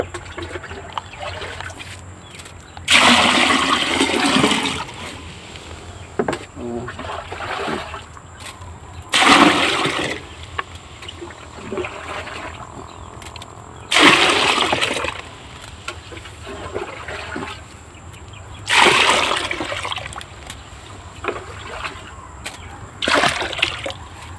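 Water poured in four separate bursts, each a few seconds of loud splashing and trickling, with quieter pauses between.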